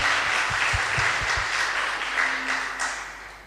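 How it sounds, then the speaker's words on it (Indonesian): A church congregation at a 50th jubilee service bursts into loud applause and cheering, a few sharp claps standing out early before the roar slowly fades. "Berikan sorak-sorak untuk Tuhan."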